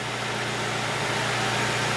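Volkswagen Polo 1.6 2014 engine running steadily with an even mid-pitched hum and faint vibration, close and continuous, without any clear rise in revs and with no talking.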